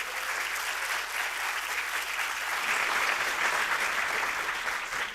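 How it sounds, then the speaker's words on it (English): A full room applauds at a graduation ceremony, dense steady clapping that holds at an even level throughout, with no voices on top. "That is so nice to hear a full room of clapping."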